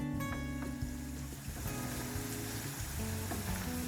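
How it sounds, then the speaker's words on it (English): Prawns frying in a pan give a steady, close sizzle with a faint bubbling hiss running throughout, alongside low background hum and no talk. "I just need to fry my prawns."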